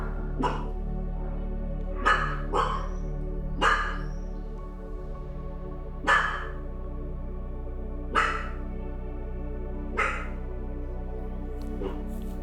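A single dog barks about eight times at spaced, irregular intervals, each bark sharp and fairly close over a low steady hum.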